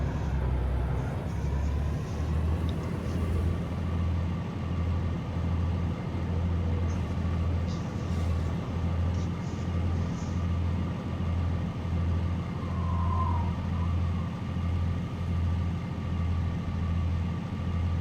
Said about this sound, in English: the Scorpion tank's engine sound is not nearly as obnoxious as the Warthog sound